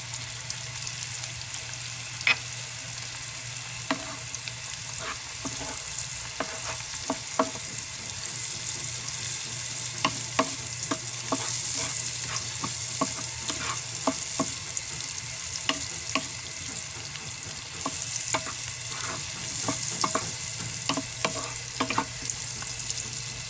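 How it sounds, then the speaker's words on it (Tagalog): Garlic and onion sizzle steadily in a pan, with repeated scraping and stirring clicks over a constant hiss and a low hum underneath. "After po nating isote yung ating garlic at onion"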